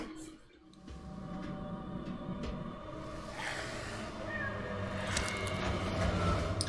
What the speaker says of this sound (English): We're gonna get a deadite cat.